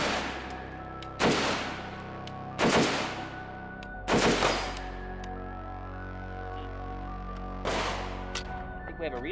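Five sharp, loud rifle shots from an AK-Niner 5.56 crack out at uneven intervals, each with a ringing decay over a low steady background.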